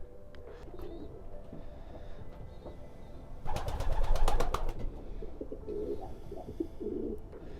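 Racing pigeons coo in a breeding loft, soft repeated rolling calls close by, with a brief flurry of wing claps and rustling partway through.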